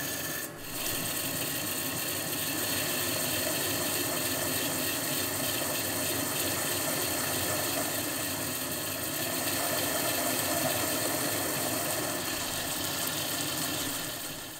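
QATM Qpol 300 grinding and polishing machine running with a steady, close mechanical whir and hum that holds constant throughout, with no talk over it.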